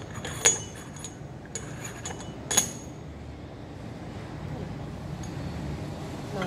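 Spoon stirring a cup of coffee, three bright glassy clinks against the cup in the first few seconds, then only a quiet room hiss.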